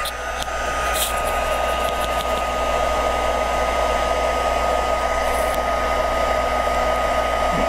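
Heat tool melting silver embossing powder on foil, a loud steady blowing roar running throughout, close and alone with no talking.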